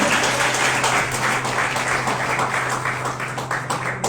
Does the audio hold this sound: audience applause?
yes